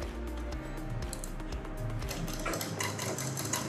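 Sewing machine running continuously while stitching a kurti, a steady close mechanical whir and rapid needle rattle with a slight shift in pace partway through.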